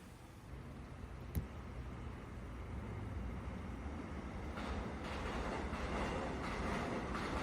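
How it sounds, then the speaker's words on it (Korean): Inside a moving Korean commuter rail train on Line 1, wheels clack and rumble over the tracks, a steady low roar that swells louder toward the end. "학창시절 매일 타고 다녔던 국철 1호선입니다."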